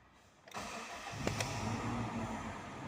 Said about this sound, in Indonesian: Oke, kita coba starter setelah kita benarin ya.